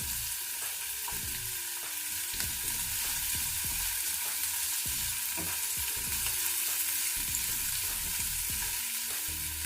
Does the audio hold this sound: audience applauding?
no